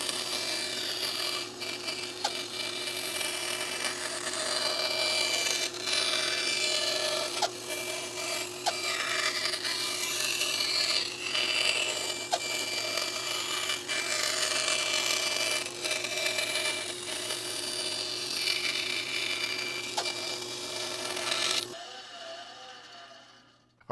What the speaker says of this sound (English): I'm going to be doing mine on a bandsaw